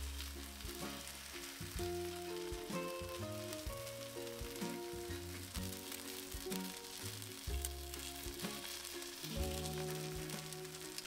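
Takoyaki batter balls with octopus sizzle steadily in a takoyaki pan, a continuous moderate frying hiss under prominent background music with sustained tones throughout.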